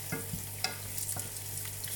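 Garlic frying in a pan for an Indian chicken curry, a soft steady sizzle with a few light stirring scrapes and clinks, close and continuous with no talking.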